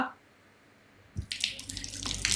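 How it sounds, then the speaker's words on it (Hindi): Water gushes from a tap after a quiet stretch, starting with a knock and then splashing loudly and unevenly as it hits something below, close by with no talk. "काले तुझे मुंह पे पानी डालने का नहीं बोला था।"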